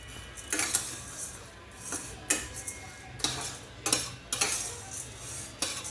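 Urad dal roasts dry in a pan, and a spatula sweeps and scrapes through it in about seven distinct strokes at an uneven rhythm, close but soft, over a faint low hum and without speech.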